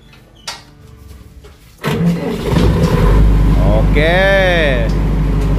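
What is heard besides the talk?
Himoinsa 22 kVA silent generator starting up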